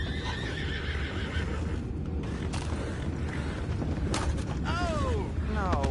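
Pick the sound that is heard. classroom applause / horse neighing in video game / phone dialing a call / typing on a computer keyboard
horse neighing in video game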